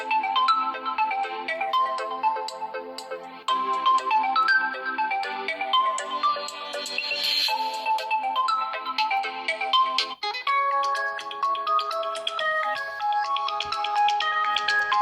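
A Realme 6 phone's speaker plays a ringtone, a bright melodic electronic tune repeating in looping phrases, fairly loud and close, with no one talking.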